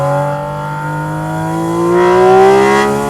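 A Porsche GT4 RS with a naturally aspirated engine revs hard on a twisting road, its loud, close tone climbing steadily in pitch over a few seconds and peaking near the end.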